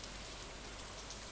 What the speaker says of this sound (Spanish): la lluvia, bueno, no lo sé, cómo cae sobre el lago o algo así